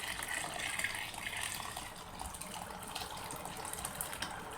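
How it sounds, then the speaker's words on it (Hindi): Hot water gushes steadily into a pot of soaked mash lentils for Pakistani daal, a continuous pour, fairly close and alone without talk. "दाल में पानी गर्म जो किया हुआ होगा वो डाल लें"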